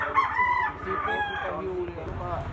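A large yellow-legged rooster crows up close, a drawn-out call repeated in stretches, with hens clucking and background chatter around it.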